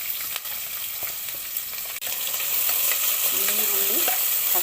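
Whole spices and then green chillies and onion hit hot oil in a pan for vegetable bath, giving a steady close sizzle with occasional stirring scrapes, no voices.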